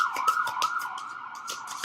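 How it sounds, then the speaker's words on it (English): An emergency vehicle siren wails steadily on a New York street, close and fairly loud, with faint traffic noise around it. "Sirens."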